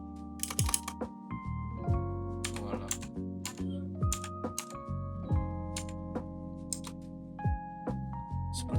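Computer keyboard typing at close range in an Ubuntu 22.04 terminal, with a steady stream of quick, uneven key clicks and a few louder strokes, heard alone with no talking.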